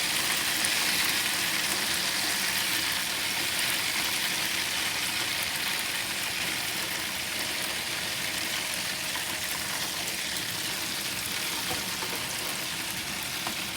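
Chicken wings deep frying in hot oil on a Masterbuilt Gravity Series charcoal grill, a steady, loud hiss and crackle of bubbling oil that runs unbroken with no talk.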